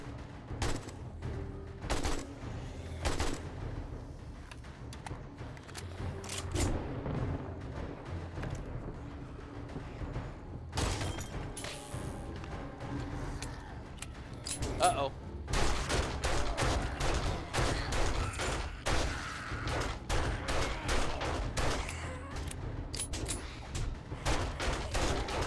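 An AK rifle firing 7.62 rounds in 7 Days to Die pours out dense, continuous bursts of gunfire for the whole stretch, with rapid repeated shots and no talk over them.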